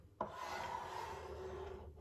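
A wooden board is sanded by hand: one continuous rasping scrape starts abruptly and holds steady for nearly two seconds, close and fairly quiet, with no voices.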